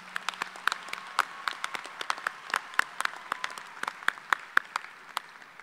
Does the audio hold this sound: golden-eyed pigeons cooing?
no